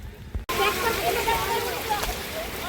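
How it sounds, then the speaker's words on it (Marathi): A waterfall near Waghrya Pada roars with a steady, broad rush of falling water, heard close and loud with people talking over it. "आईच तो बघा धबधबा"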